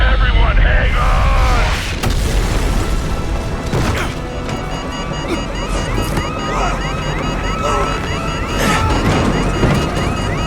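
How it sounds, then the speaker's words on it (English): Nuclear blast and helicopter crash from the Call of Duty 4: Modern Warfare game, a dense, loud wash of rumbling explosion, crashing impacts, mechanical clatter and wind roar filling the whole stretch, with a rising whine near the end. "The nuclear explosion in shock and awe is one of the most iconic and disturbing moments in Call of Duty history."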